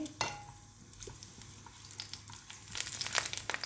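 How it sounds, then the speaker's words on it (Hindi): Garlic cloves, three to four of them, frying in heated oil in a home kitchen, giving a soft crackling sizzle with stirring scrapes that grows busier and louder toward the end. "हल्का सा इसको करेंगे हम फ्राई लहसुन को"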